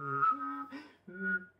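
A whistled melody from Satie's Je te veux, with brief pitched notes broken by a quick inhaled breath taken mid-phrase, close and soft.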